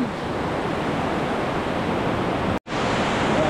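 River water flowing 40 metres below a high viewpoint near Annecy, a steady broad rushing roar with no breaks, cut off briefly for a moment before resuming just as loud.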